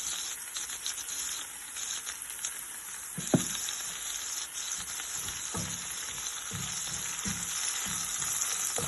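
Garlic, ginger and onions sautéing in butter with salt in a pan, cooking for sarson ka saag: a steady, moderate sizzle and frying hiss runs throughout, with a few soft clicks of stirring.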